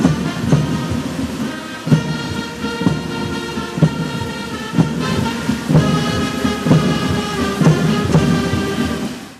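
Heavy rain pours over Central Stadium in Thiruvananthapuram during an Independence Day ceremony, a loud steady wash with recurring heavier bursts and a rhythmic pulse running through it.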